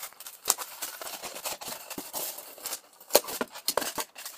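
Scissors snip through duct tape, cutting out a small square in a run of short, crisp, close cuts at an irregular pace, with quiet handling between them.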